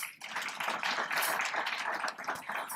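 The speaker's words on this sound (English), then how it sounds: "Please give them another round of applause." An audience at a veterans affairs luncheon claps in brief, dense applause, a close crowd of hands sounding steadily for about three seconds before tapering slightly.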